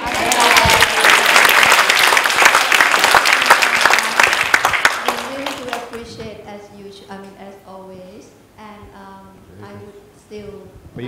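A crowd at a Buddhist talk event gives a round of applause for the MC. Dense clapping fills the first half, then thins and fades, and a voice speaks afterward.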